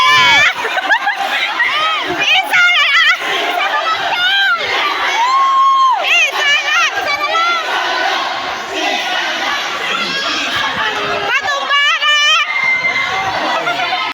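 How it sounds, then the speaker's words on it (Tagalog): A loud crowd cheering and shouting continuously at a school district sports meet, excited voices and whoops overlapping close by for the whole stretch. "grabe yung hiyawan dyan sa kanya"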